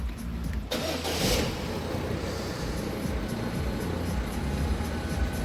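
A Peugeot Partner van's engine cranks briefly and catches, then settles into a steady, close idle that rumbles on unbroken.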